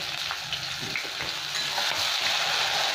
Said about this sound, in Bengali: এবার মশলাটাকে ভালো করে ভেজে নিই